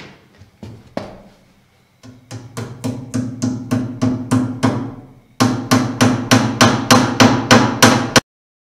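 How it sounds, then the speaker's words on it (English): Roofing nails hammered into a bathtub flange during a home build: a close, loud run of sharp, evenly spaced hammer blows, a short pause, then a second rapid series of strikes. "you just put it right at the top of the flange and nail it in so that the head of the roofing nail overlaps the flange"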